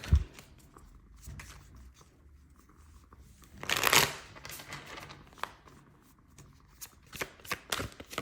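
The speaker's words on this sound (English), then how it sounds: "Let's get some more tarot cards and see what else Spirit wants to tell you." A deck of tarot cards being shuffled by hand at close range, soft riffling and sliding with a few sharper flicks and taps, no speech.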